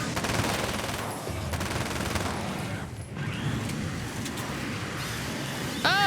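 Dense, rapid gunfire from the video game Alan Wake's American Nightmare, a sustained loud burst of shots running almost the whole time with brief dips, no talk over it.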